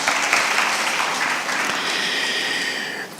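Sustained audience applause at the official launch of the Nigerian Farmers Soil Health Scheme, honoring Honorable Kelechi Nwogu; dense, steady clapping from a sizable crowd, fairly loud, easing slightly near the end.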